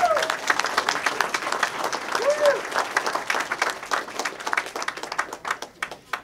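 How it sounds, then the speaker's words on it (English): An audience at a campaign announcement applauds, a sustained burst of clapping from a crowd that gradually thins and fades toward the end, with a few cheers near the start. "So give yourselves a big round of"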